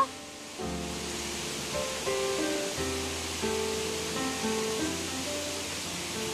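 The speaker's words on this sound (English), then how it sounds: "the sound of the waterfalls is getting louder as I get closer" Steady broadband rushing of Krangshuri Falls in Meghalaya fills the scene, with faint tonal hums layered over the continuous roar.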